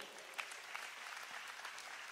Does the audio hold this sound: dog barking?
no